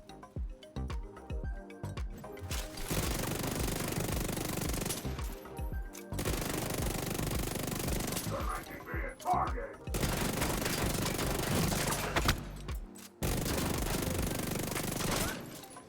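Rapid automatic gunfire against a boss in The Division 2, loud sustained bursts separated by short pauses, with a voice talking over parts of the shooting.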